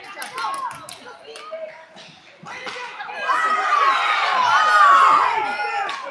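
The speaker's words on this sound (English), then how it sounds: "Something got the crowd going." At a Navy versus Piedmont Predators ice hockey game, an arena crowd swells into loud cheering and shouting that builds and holds, with puck and stick slaps before it and a commentator talking throughout.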